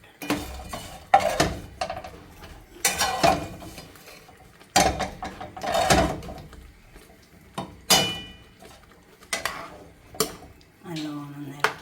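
Butter chicken being stirred in a pan, with repeated metallic scrapes and clanks of a utensil against the pan in irregular bursts separated by short pauses.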